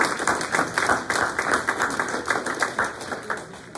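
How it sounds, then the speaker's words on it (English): Audience applause for presenters at a school feasibility presentation, dense steady clapping from many hands throughout, moderately loud, no talk over it. "Let's give them a round of applause for their presentation and help."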